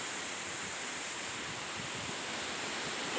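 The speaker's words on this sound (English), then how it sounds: "And I'm getting some more wind." Strong wind roars steadily and loudly across the microphone during tornado-siren storm weather, a dense continuous rush with no pauses and no voices.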